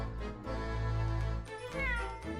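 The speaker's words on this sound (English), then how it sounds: "that was a cheeky little meow" A cat in the video game The Great Ace Attorney 2: Resolve gives two clear, drawn-out meows, the second rising and bending in pitch, close and fairly loud.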